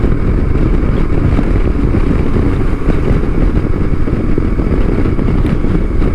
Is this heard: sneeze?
no